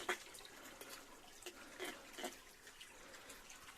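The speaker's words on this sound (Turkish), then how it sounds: "Biraz su dinlensin." Spring water running out of a mountainside near Akarca, a faint steady trickle and splash with scattered drips, heard from close by with no talk.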